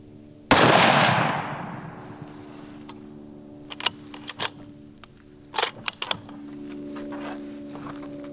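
A single loud, close Ultradyne 6.5 precision rifle shot cracks out and rings into a long decaying tail, followed by scattered clicks and rattles of bolt handling.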